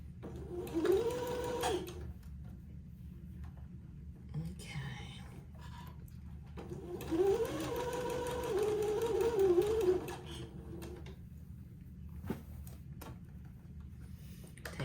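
A home sewing machine stitches a crotch seam in purple thread, running in short bursts of rapid mechanical whirring separated by pauses. Faint handling clicks fill the gaps, and quiet speech is heard softly at times.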